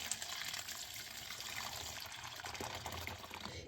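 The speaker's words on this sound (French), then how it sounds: "tu ajoutes de l'eau bien chaude par-dessus" Very hot water poured steadily over a laundry detergent pod in a bowl, a continuous faint splashing trickle lasting throughout.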